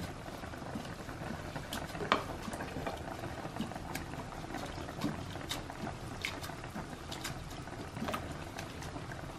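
Dry yam stem being washed in water in a kitchen, with continuous sloshing, splashing and patter of liquid plus a few sharper splashes, close and steady with no talk.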